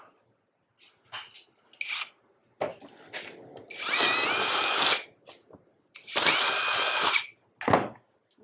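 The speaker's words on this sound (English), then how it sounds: "If I'm drilling these by hand" Hand-held drill boring holes in a blown acrylic bubble top for a mini trike, two sustained whining bursts of about a second each, close up, with shorter scrapes and handling noises between them.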